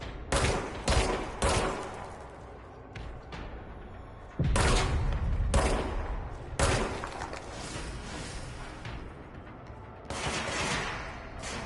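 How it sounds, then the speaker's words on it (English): Repeated loud gunshots in the video game Control, coming in irregular bursts and single blasts with booming tails across the stretch, and no talking. "he's shooting back"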